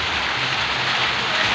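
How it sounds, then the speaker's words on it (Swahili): Heavy rain pours down in a dense, even hiss with no breaks, loud and close, with no voices. "oneni mvua venye ni kubwa huku"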